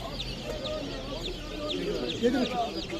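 Two-week-old chicks for sale at a market in Kırıkkale, Turkey, peep and cheep steadily in a noisy crowd, with hens clucking and people chatting in the background.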